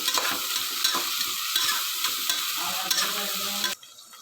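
Onion, green chilies and cinnamon being stirred in a frying pan, with a steady bright sizzle and repeated scraping strokes of the spoon that stop abruptly near the end.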